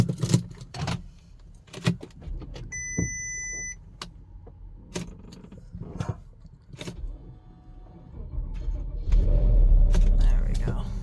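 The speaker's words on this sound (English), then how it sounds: "And let's start her up." A 2006 Porsche Cayenne that has not been started in a while: keys jangle and a chime sounds, then the engine cranks and catches into a loud, steady rumble near the end, with people talking throughout.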